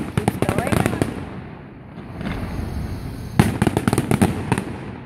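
Fireworks burst in rapid crackling volleys, a dense string of sharp pops at the start, a brief lull of rumbling background, then another loud cluster of bangs near the end, with a faint voice underneath.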